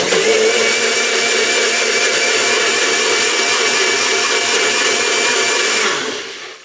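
A Nutribullet Pro 900 bullet blender runs at full speed in a steady, loud, high whine for several seconds, then winds down at the end.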